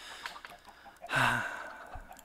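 A chicken in the Minecraft video game gives a short, close cluck-like call in the middle of a quiet moment, with a few faint clicks around it.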